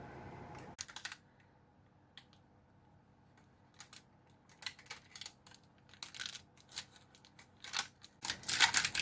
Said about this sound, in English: taking a long knife, I'll just cut it into pieces.